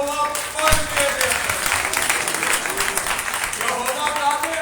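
A church congregation claps at a Sunday sermon, a dense, steady wash of applause lasting the whole few seconds, with voices mixed in.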